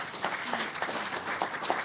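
Audience applause for candidates at a League of Women Voters candidate forum, a short spell of steady clapping from a modest crowd in a hall.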